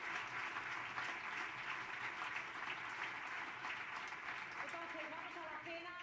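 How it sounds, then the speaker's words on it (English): An audience applauds at a tech summit dinner gathering, steady dense clapping throughout with a few voices faintly mixed in near the end. "let's have applause for these people too"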